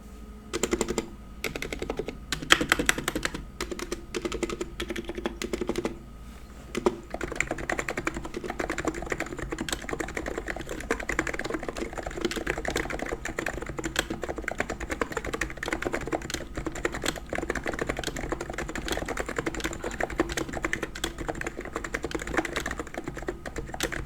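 Steady typing on a stock electrocapacitive (Topre-style) keyboard, a dense stream of soft, muted key presses with brief pauses, close and continuous throughout.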